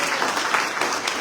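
Brief, even applause from an audience at an awards presentation, a dense, steady patter of many hands with no voices over it.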